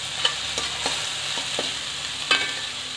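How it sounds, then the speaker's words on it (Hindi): Onions frying in a kadai for dhaba-style kadai paneer, with oil starting to separate: a steady close sizzle broken by a few sharp spoon knocks and scrapes. "मेरी प्याज अच्छे से फ्राई हो चुकी है"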